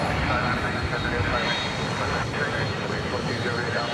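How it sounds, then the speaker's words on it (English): McDonnell Douglas MD-11 jet aircraft from 1992, bound for Louisville from DFW, a loud steady jet roar with a thin high whine running through it, under occasional talk. "MD-11 going to Louisville"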